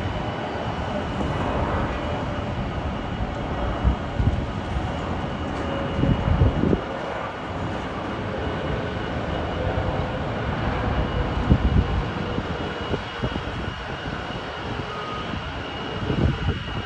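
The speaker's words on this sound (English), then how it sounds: "British Airways A320neo. It's arriving at Heathrow from Frankfurt." British Airways A320neo airliner arriving at Heathrow, a broad steady jet engine roar heard from a distance outdoors, sustained and fairly even with occasional gusty rumbles.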